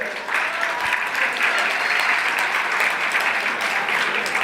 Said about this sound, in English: A little applause for that.